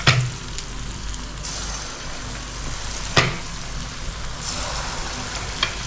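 Spicy Mangalore golli bajji batter fries in hot oil, giving a steady crackling sizzle close to the microphone, broken by a few sharp pops and spatters.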